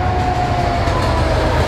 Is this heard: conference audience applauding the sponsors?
no